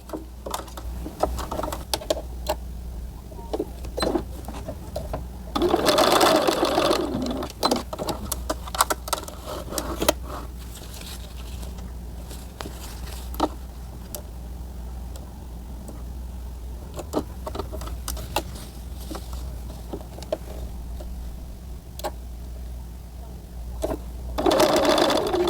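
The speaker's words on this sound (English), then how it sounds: "Now, top stitch your shoulder seam." A sewing machine top stitches the shoulder seam of a small denim jumpsuit for a Blythe doll, with short bursts of close, rapid needle chatter broken by pauses, clicks and handling noises.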